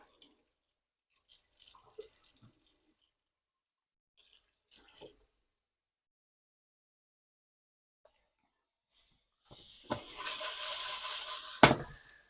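A kitchen tap runs while hands are washed during home cooking, a few faint drips and splashes at first, then a louder rushing stream near the end that cuts off abruptly.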